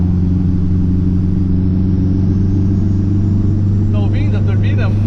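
Fiat 147 turbo running steady while being driven, a loud continuous engine drone and low rumble throughout, with a voice talking over it near the end; any turbo whine is buried in the engine noise.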